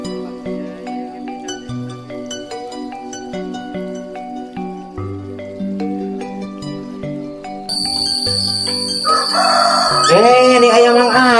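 Bright, pitched notes play steadily at first, then a rooster crows loudly near the end, its drawn-out call rising over the music.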